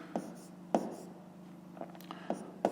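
A pen writes fractions by hand on paper, making a few soft taps and faint scratchy strokes spaced unevenly, close and quiet, with a low hum behind.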